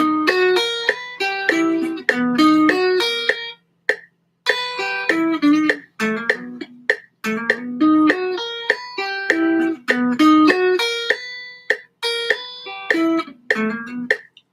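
Guitar riff played solo, a lively run of clear melodic notes and short phrases with brief gaps, close and steady in level, no voices.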